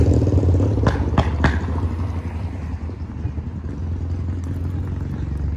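A motorcycle rides by on a street in Big Bear Village, California; its engine drones at moderate distance with some clattering, then eases off and continues more faintly under a background hum.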